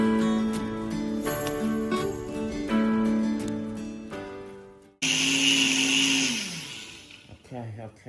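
A kitchen blender whirs through ginger, garlic and spices, loud and close, its motor pitch shifting as the blend thickens, then cutting off and restarting with a harsher roar; a voice talks over parts of it.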